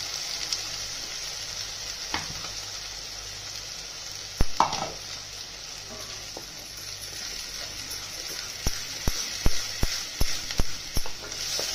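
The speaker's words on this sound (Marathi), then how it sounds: "चांगलं परतून घ्यायचं।" Ground masala for a mackerel curry fries in a pan with onion and tomato, a steady bright sizzle throughout, broken by a few stirring scrapes and then a run of sharp spoon taps near the end.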